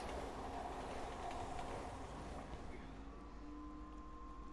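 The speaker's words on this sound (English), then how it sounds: "So you can let the train run over the enemies here." A train rolling through a level in the Resident Evil 6 video game, a steady rumbling rail clatter that holds loud and even throughout, with a brief tonal squeal near the end.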